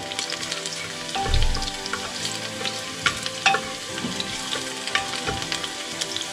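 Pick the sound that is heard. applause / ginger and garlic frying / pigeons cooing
ginger and garlic frying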